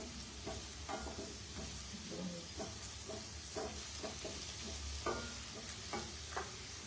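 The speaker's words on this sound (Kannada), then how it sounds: "ಸೊ ಇದಕ್ಕೆ ನಾನೀಗ ಆ್ಯಡ್ ಮಾಡೋದು ಸ್ವಲ್ಪ ಇನ್ನೂ ಫ್ರೈ ಮಾಡ್ತೀನಿ" Food frying in a pan sizzles faintly under a steady hiss, with soft stirring scrapes scattered throughout.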